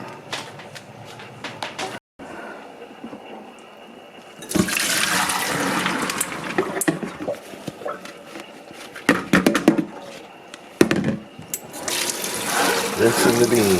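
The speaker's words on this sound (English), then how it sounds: "Rinsing the beans." Soaked beans are rinsed with running water, splashing and gushing in bursts that stop and restart over about fourteen seconds, with softer trickles and handling clatter between the pours.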